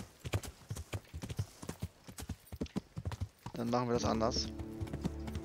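Horse hooves clip-clop at a steady riding rhythm in the Kingdom Come: Deliverance video game, loud and close around a monastery, while someone talks over them; the hoofbeats then give way to a swell of music.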